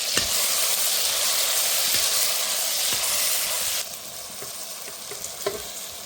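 Tomato and cauliflower cooking in oil over a low flame sizzle in a dense, continuous hiss that drops to a softer level partway through, with occasional sharp ticks from stirring.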